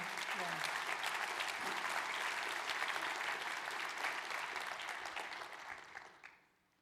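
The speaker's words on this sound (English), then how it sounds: "let's give them a great applause for all the winners" Audience applause for award winners at the Empower 2013 Laserfiche conference, a full, sustained crowd clapping that holds strong before fading out near the end, with a brief voice under it early on.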